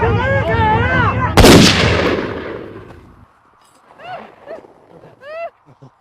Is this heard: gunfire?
yes